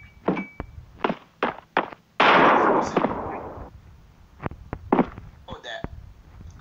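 A grenade blast in the mobile shooter Bullet Force: one loud, close burst of roaring noise lasting about a second and a half, set among sharp single gunshots and footsteps, with people talking around it.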